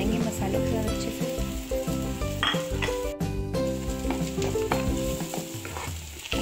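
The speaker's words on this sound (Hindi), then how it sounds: "तो हम इसको डाल देते हैं इसमें और पकाएंगे मसालों को अच्छे से।" Red chili powder, turmeric, salt and tomatoes fry in a pan for jackfruit curry, giving a steady loud sizzle with repeated scraping stirs and occasional utensil clinks against the pot.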